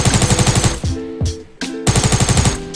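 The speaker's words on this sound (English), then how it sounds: "Getting shot from the back." Rapid automatic gunfire rattles loudly and close in Fortnite, two long bursts of evenly spaced shots separated by a few single heavy reports and short pauses.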